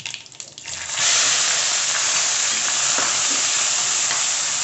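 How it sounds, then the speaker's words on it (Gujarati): Onions drop into hot oil with cinnamon, cloves, star anise, bay leaf, mustard seeds, cumin and asafoetida for tempering, giving a sudden loud sizzle that rises after a second of quieter crackling and then holds steady and close. "હિંગથી આપણે પહેલાં કાંદાનો વઘાર કરશું"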